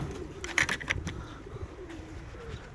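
Pigeons in a loft give soft, low cooing calls close by, with a few faint wing flutters and shuffling noises mixed in.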